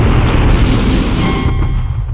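Cannon fire from the Ace Combat X video game: a loud, dense, rumbling blast sustained for about two seconds, heavy in the low end, tapering slightly at the close.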